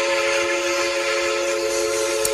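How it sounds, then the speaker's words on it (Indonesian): Thomas toy train: a steady, loud electronic tone with a whistle-like hum that holds unbroken for about two seconds, close to the listener, with no talking. "Wohoho, kereta Thomas"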